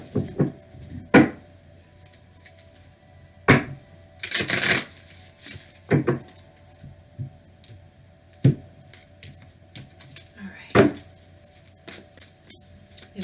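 Tarot cards are shuffled and handled in sharp, close riffling bursts and soft slaps scattered across a quiet room, with brief pauses between them and no speech.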